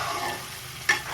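Meat and potatoes frying in a pan, a low steady sizzle broken by a single sharp scrape of a spatula stirring near the end.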